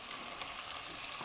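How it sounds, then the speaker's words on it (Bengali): Chopped vegetables with green chillies stir-frying lightly in hot oil for a vegetable soup, giving a steady, close, even sizzle that runs unbroken throughout with no voices. "তো নেড়ে চেড়ে তেলের উপর হালকা একটু ভেজে নিচ্ছি"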